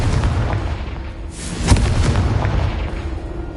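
A Confringo fire spell explodes in a wizard video game: a deep, loud boom bursts out about halfway through, over a steady roar of dense rumbling noise that runs the whole time.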